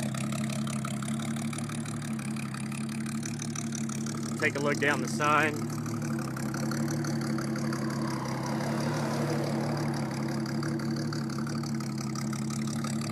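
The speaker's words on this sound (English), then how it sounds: "You can hear it idling back here." A 1961 Ford Ranchero Custom's engine idles steadily throughout, a low even rumble that runs alone and unchanging for the whole stretch, while someone talks briefly over it near the middle.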